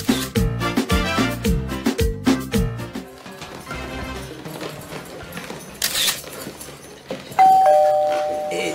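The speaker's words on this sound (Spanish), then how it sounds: "un segundito que están tocando el timbre" A house doorbell plays a bright, melodic multi-note chime, loud and close, repeating over the first few seconds before fading into quieter room sounds and a later steady electronic tone.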